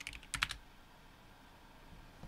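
A few quick computer keyboard keystrokes, a crisp close cluster of clicks at the start, then quiet room tone.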